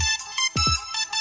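Start-up jingle from a tiny mini phone being switched on: a short bright electronic melody of several quick tonal notes over about a second, close and clear with no talk.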